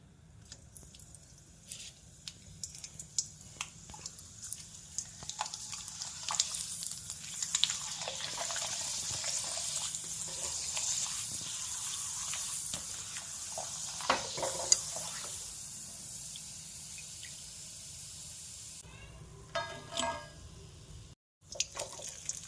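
Sun-dried sago and potato papad fries in hot oil, giving a steady, close crackling sizzle with occasional stirring scrapes and bubbling that lasts throughout, fading briefly near the end.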